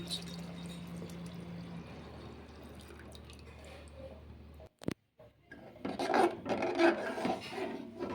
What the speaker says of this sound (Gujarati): પછી જે આપણે આ દૂધ ગરમ કર્યું હતું તે દૂધ આમાં નાખી દેવાનું